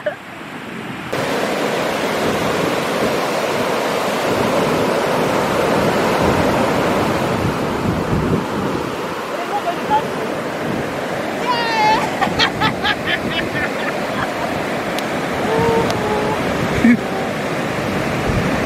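Ocean waves break on a beach in Ghana as a continuous roar of surf with wind buffeting the microphone, and a few faint bird chirps come through near the end.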